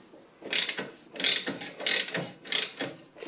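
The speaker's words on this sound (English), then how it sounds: "Then we'll get a wrench in the back of there" A ratchet wrench loosens corroded rear suspension bolts on a classic VW Beetle with independent rear suspension, giving four evenly spaced bursts of close, sharp clicking.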